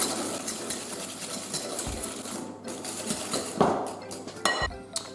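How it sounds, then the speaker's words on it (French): A metal whisk stirs sugar into melted butter in a bowl, scraping and clinking in uneven strokes with sharper knocks against the rim toward the end, close and moderately loud. "On mélange à l'aide d'un fouet. Puis on va bien crémer l'ensemble."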